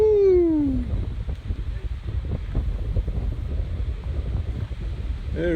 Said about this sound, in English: The wind is gonna blow my hat off. Whew. Here comes the wind.